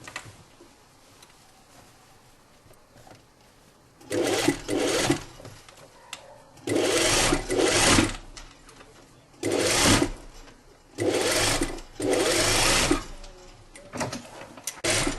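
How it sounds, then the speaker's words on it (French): A sewing machine topstitches the shoulder seam of a tunic, running in four loud, close bursts of rapid stitching separated by short quiet pauses. "Donc ça, c'est la surpiqûre de la deuxième épaule."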